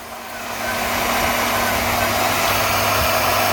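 A power saw fitted with a new blade grinds steadily through a steel lineshaft in a blacksmith shop, a loud continuous buzzing drone that builds in the first half second and holds unbroken to the end.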